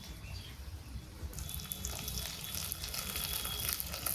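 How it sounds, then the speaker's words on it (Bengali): Water drained off cooked food in a home kitchen, a faint trickling pour that swells into a steadier, brighter splashing rush partway through. "জল থেকে ছেঁকে দিলাম।"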